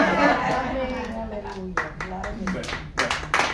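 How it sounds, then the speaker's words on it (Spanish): A church audience at a teaching session claps together in a sustained burst, with a voice talking over it throughout. "no es porque me aplauden a mí"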